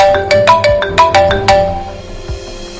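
A phone ringtone rings loud and close, repeating a bright chiming melody of quick, evenly spaced notes before it fades out.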